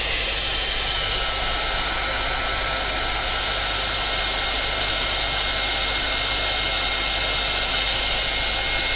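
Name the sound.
heat gun heating a craft gnome to make it glossy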